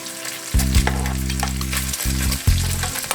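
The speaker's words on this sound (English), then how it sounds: "And add the onion to the bacon." Onion dropped in with bacon in a pan gives a sudden loud sizzle that holds steady, with a couple of stirring scrapes and a fresh burst near the end, close by and with nobody talking.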